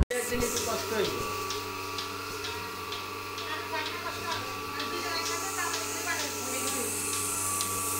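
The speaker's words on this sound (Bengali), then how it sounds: "এটা হলো তুরস্কের দুধ দহানো মেশিন, মিলাস্তি মিল্কিং মেশিন।" A Milasti Turkish milking machine runs steadily while milking, a continuous mechanical hum with a regular ticking pulse from the pulsator, close and unbroken throughout.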